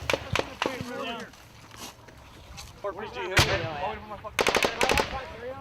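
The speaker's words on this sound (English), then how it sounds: "they're taking it from all directions. So you got guys shooting." Gunfire in combat footage, with sharp shots and bursts from several directions, including a rapid cluster near the end, mixed with people talking and shouting.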